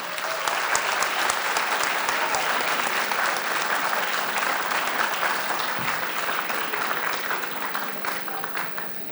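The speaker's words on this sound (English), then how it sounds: "can we have a huge round of applause for all the participants?" A hall full of people applauds the participants of a national-level college project competition, with a long, steady round of clapping that holds strong for about nine seconds and fades slightly at the end.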